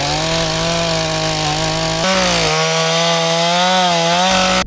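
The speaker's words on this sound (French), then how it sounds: "Mon père est parti chercher la tronçonneuse. On va couper ça" A chainsaw cuts through a fallen tree on a farm, its engine a loud, steady buzzing drone that is close and continuous, with a brief dip in pitch partway through as it bites into the wood.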